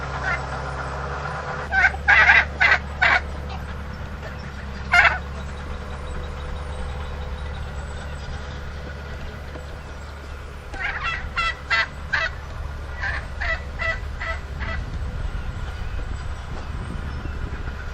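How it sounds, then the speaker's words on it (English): Chickens and turkeys on a farm give clusters of loud gobbling and clucking calls in several bursts over a low, steady background rumble, fairly close, with no speech. "Oh, there's a chicken."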